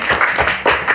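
A studio audience at a talk event claps in a brief, dense burst of overlapping handclaps, loud and close, lasting about a second.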